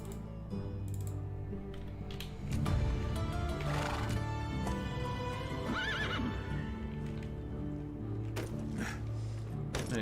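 A horse in the medieval game Medieval Dynasty whinnies loudly midway while its hooves clip-clop steadily, alongside mechanical clicks and game ambience.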